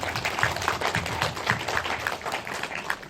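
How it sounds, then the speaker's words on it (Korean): At an indie film talk for the Korean film Through My Midwinter, an audience applauds the actors with a brief burst of mixed, moderately loud clapping that holds steady for a few seconds. "박수를 한번 드리죠"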